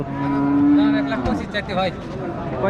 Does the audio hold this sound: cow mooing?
yes